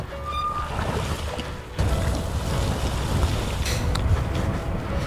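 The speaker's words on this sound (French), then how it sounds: "j'espère qu'il n'y a pas trop de vent et que vous m'entendez bien" Heavy wind buffets the microphone while someone rides an electric moped, a Himiway Escape Pro, over slag heaps. The rumble is loud and continuous and gusts harder partway through, with no voice heard.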